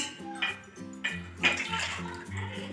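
Water poured by the glassful into a container to mix a shampoo cleaning solution for kitchen tiles and a gas stove, heard as a few close, splashy pours with resonant gurgling.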